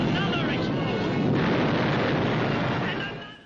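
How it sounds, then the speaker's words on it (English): The warship Graf Spee blows itself apart in archive film. A loud, sustained broadband roar of explosion fills about three seconds, then begins to fade. "Another explosion!"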